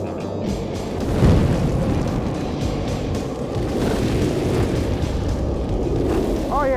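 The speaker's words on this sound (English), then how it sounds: "Luke, can you turn on that propane for me?" A propane torch roars steadily after being lit outdoors in Wisconsin, a loud broad whooshing rush that holds for several seconds with voices talking over it.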